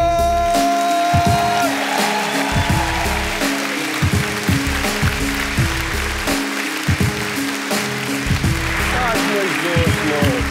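A live audience at a comedy roast applauds a guest of honour, sustained clapping from a crowd carrying on beneath a loud voice talking over the top for the full length.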